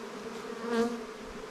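Honey bees buzz in an open hive during a backyard hive setup, a steady close drone that swells slightly midway, with no talking.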